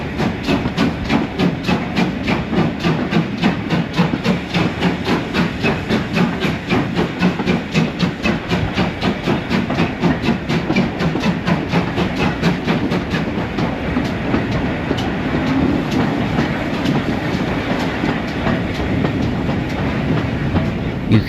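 A steam train runs along a heritage railway at dusk, rolling past a wagon and carriage works with a steady, loud rhythmic clickety-clack of wheels on rail joints over a continuous hiss and rumble.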